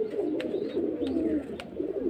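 A Phulshira pigeon coos softly and continuously at close range, its low warbling steady under a few light clicks and rustles, with no talk.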